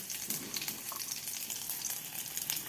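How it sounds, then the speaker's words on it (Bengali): Chopped onion dropped into a pan with tomato gives a dense, busy, continuous sizzle with fine crackling. No one speaks. "এবারে এর মধ্যে দিয়ে দিব পেঁয়াজ কুচোনো"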